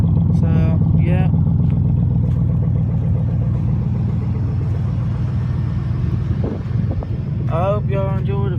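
A 2000 Chevy Silverado with glasspack dual exhaust idles after a cold start, producing a loud, steady low rumble close to the microphone. Someone talks over it in short bursts.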